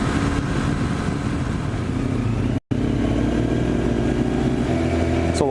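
A crowd of motorcycles on a fall poker ride rumbles steadily at moderate distance, a dense continuous drone of idling and revving engines with a brief dropout midway.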